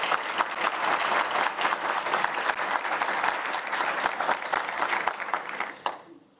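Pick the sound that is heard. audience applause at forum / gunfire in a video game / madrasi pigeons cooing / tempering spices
audience applause at forum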